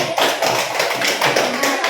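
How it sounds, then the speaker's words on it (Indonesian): Applause from a primary school classroom for a student group, a dense steady patter of many small hands that fills the whole stretch at close range. "terima kasih tepuk tangan untuk kelompok 4"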